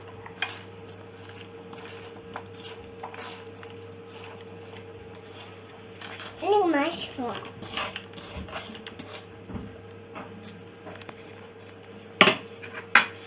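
A utensil clinks and scrapes against a bowl as eggs and chopped ingredients are stirred for an omelette, with a faint steady hum in the background and a few sharper knocks.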